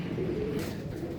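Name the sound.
pigeons cooing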